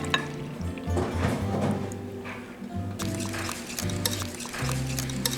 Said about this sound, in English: we'll mix this all together